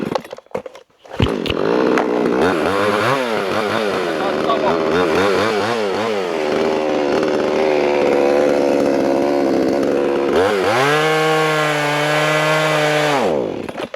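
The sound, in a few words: chainsaw cutting wood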